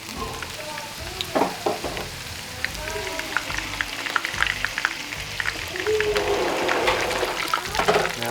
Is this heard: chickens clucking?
no